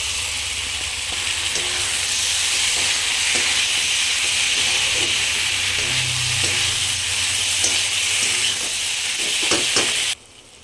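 Fried vegetable stalks and spiced potatoes fry together in a pan for a tangra fish curry, a loud continuous sizzle and hiss with occasional stirring scrapes, ending abruptly near the close.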